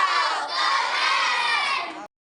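A class of children shouting a loud collective cheer together in a classroom, a dense burst of young voices that holds steady before cutting off abruptly.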